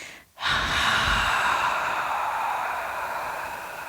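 A deep yoga breath: a long, steady exhale of rushing air follows a brief inhale, close and clear, fading gradually over several seconds with no talking.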